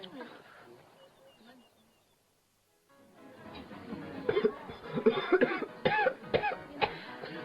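Several sharp coughs in quick succession amid a busy room with people talking, following a quieter stretch of murmuring.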